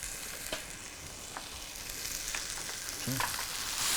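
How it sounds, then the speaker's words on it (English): Chorizo from Malaga, skin removed, sizzles steadily in a hot pan while it is stirred around, with a few scraping clinks of the spoon against the pan over a constant frying hiss. "Give that a little stir around, keep it moving."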